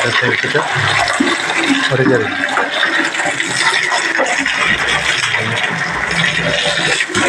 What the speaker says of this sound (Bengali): জলটা ভরবো চালিয়ে চালে জল চালানো হয়ে গেছে জল লোড করে নেব জলটা লোড হবে